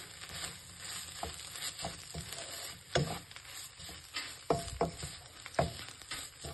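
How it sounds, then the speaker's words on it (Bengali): Beetroot and coconut curry, Tamil Nadu style poriyal, fries in a pan with a faint, low sizzle, broken by scattered sharp clicks and taps as it is stirred. "দেখুন বেশ ভাজা ভাজা হয়ে গেছে আমার তরকারিটা, নারকোলটাও ভাজা ভাজা হয়ে গেছে।"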